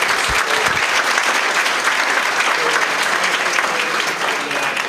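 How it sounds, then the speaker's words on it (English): Sustained applause from a luncheon audience at a regional chamber economic club event, honoring the panelists, dense and steady throughout before easing slightly at the end. "So one more round of applause for our panelists today."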